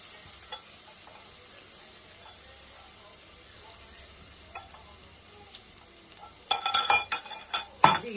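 Ground garlic and ginger paste fries in a pan for mutton pulao with a soft, steady sizzle, then a few loud clinks and scrapes of stirring break in near the end.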